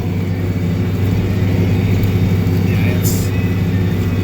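A tractor drags a plow that skids over hard gravelly ground, its engine a steady loud low rumble throughout with some scraping grind layered on top, continuous and close.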